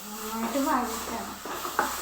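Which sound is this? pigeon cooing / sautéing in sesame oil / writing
sautéing in sesame oil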